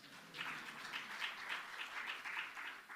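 Applause from a conference audience at a civil society forum opening, a fairly soft, even patter of many hands with small swells, continuing throughout with no one speaking.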